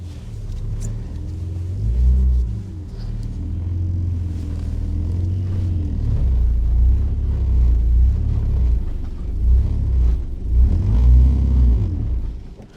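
BMW E46 Compact with a welded differential reversing, a loud close engine rumble swelling and easing with throttle, low drone punctuated by revving surges near the start and end.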